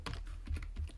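Computer keyboard typing, a few quick irregular keystrokes close up during a physics lesson, clear and alone.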